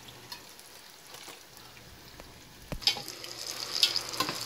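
Plantain slices frying in a pot of hot oil: soft crackling sizzle, quiet at first, then louder spattering and a few sharp knocks of a utensil as pieces are scooped out, no talking.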